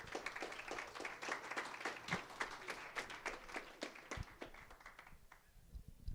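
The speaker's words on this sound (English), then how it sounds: "Y'all clap like y'all knew me." An audience applauds Pastor James Callahan at a ChaparralHS gathering, with dense, steady clapping from many hands for about five seconds before it thins out and fades.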